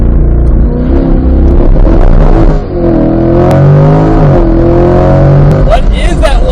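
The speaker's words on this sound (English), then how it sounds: "Do one final launch control, see if that helped out or not." A C8 Corvette sports car makes a launch control start, its engine roaring loudly and rising in pitch through the gears, with a brief dip at a shift, heard up close from inside.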